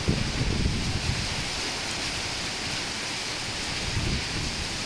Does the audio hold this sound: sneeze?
no